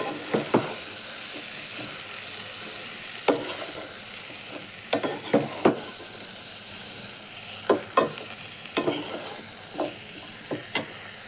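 Chayote being stirred in a frying pan: a quiet steady sizzle with repeated sharp scraping clicks of the spoon against the pan at an uneven rhythm, close up, with no talking.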